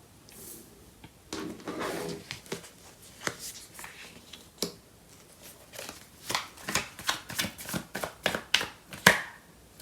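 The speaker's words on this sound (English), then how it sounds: "So I'm going to clarify these cards." Tarot cards shuffled and handled at close range, a run of crisp riffling bursts and soft slaps that grow sharper and louder toward the end, with no talking.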